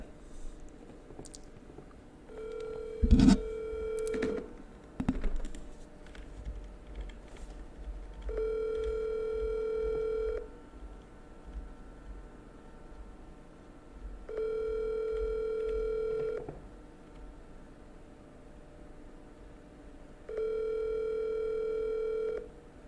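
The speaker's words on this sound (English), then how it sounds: "So we're going to go ahead and give this seller a call." Phone call placed to a property seller: a brief burst of dialing tones, then three evenly spaced ringback tones, each lasting about two seconds with pauses between, clear and alone with no talking.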